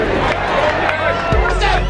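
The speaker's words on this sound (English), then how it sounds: "There's a lot of crowds that are going crazy, singing the music before it even comes on." A stadium crowd goes wild and sings along before a show, with a loud, continuous roar of cheering and chanting voices.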